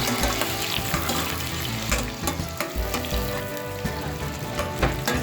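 Garlic fries in melted butter in a hot pan with a loud, continuous close sizzle and crackle, accompanied by light stirring, and no one speaks.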